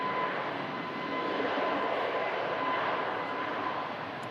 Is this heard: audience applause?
no